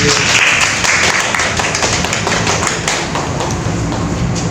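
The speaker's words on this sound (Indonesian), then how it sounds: "Boleh tepuk tangan untuk kelas kita hari ini." A classroom group claps at the close of a micro-teaching English lesson, loud uneven hand claps and thumps close by, a small group rather than a large crowd, tapering slightly.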